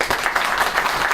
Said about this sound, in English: A round of applause to Mike.